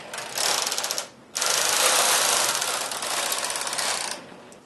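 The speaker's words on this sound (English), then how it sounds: "Now it's time to do one row with my dial set on KC, and it will select a few needles right in the middle for this number 1." A knitting machine carriage knits a row, set to select needles. It makes a close, busy mechanical clatter of ratcheting and whirring in two sweeps separated by a brief pause, with no voices.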